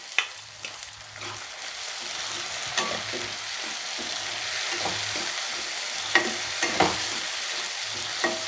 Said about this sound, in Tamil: நல்லா இது ஃப்ரை ஆகணும் தக்காளி